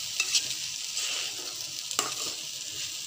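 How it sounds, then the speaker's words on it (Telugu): Rayalaseema uggani, a puffed rice upma with spice powder, garlic and dal, is stirred in a hot pan, giving a steady sizzle with a few scraping clicks of the spoon close up and no talking. "ఇప్పుడు కలిపేసుకుంటాం."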